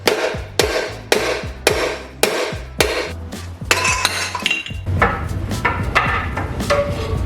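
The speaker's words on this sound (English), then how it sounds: "now I'm just trying to hammer out this piston" Hammer blows driving a stuck piston out of a 5.3 LM7 V8 engine block, sharp metallic strikes in a steady rhythm at first, then faster and more muddled clanking as the piston works loose.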